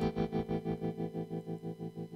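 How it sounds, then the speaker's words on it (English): Electric guitar soaked in effects, with distortion, chorus and plate reverb, plays a steady repeating rhythmic figure in a rhythm-section mix, pulsing evenly throughout and sitting clear and upfront. "And we'll hear the electric guitar here."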